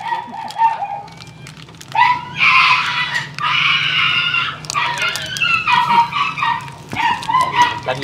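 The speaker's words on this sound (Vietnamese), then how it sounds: "Làm gì chó la dữ vậy" A dog barking loudly and repeatedly at a family meal, with sharp yapping barks and whiny yelps coming in bursts across the whole stretch, close and prominent.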